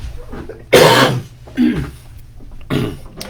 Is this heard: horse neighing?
no